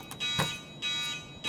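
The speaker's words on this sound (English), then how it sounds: "You hear the alarm." An electronic alarm sounds in Escape from Tarkov's Ultra medical room, with repeated steady pulses of a buzzing tone.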